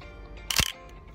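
A Contax RTS film SLR camera fires its shutter once: a single sharp, close mechanical snap that rises out of quiet room tone and stands alone.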